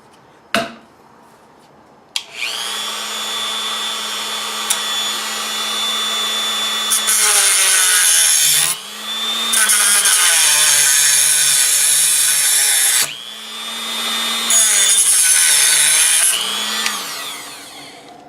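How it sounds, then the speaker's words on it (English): A Dremel rotary tool cuts excess material off a Type 81 folding or fixed buttstock, giving a loud, steady high-pitched whine in long bursts with brief dips and pauses, preceded by a sharp click. "I'm going to use a Dremel to cut it. Cut the excess off."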